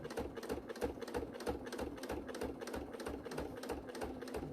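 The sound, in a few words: sewing machine stitching fabric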